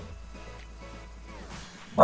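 A pet dog at home barks once, a short loud bark at the very end, preceded by faint whimpering or low noises under quiet background sound.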